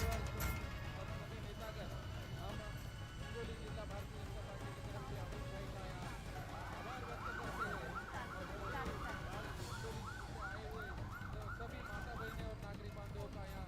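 A fire brigade siren wails at an underground metro station fire, rising and falling behind a steady roar of crowd noise and traffic, faint and partly buried in the din.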